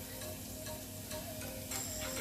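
Quarter cup of onions going into about 1.5 tablespoons of hot regular vegetable oil, giving a steady close sizzle and crackle with a brief brighter hiss near the end, no talking.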